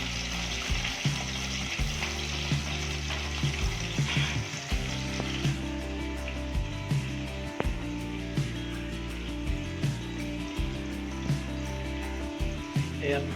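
Chopped onion and tomato fry in hot oil in a home kitchen pan, giving a steady close sizzle with clinks of a stirring utensil and a faint voice in the background.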